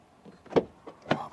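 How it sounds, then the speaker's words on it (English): Door of a 2024 MINI Aceman shutting, a couple of short soft thuds with a firmer clunk near the end, close by and alone. "Then door closing sound"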